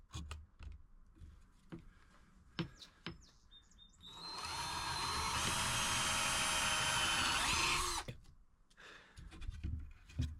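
Power drill boring a 3/16 hole through wood with a scrap 2x4 underneath: a loud, steady whirring grind lasting about four seconds, framed by small clicks and handling knocks before and after.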